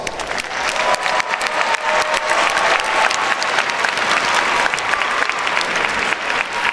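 Audience applause fills a graduation ceremony hall, dense steady clapping from a large crowd sustained at even loudness throughout.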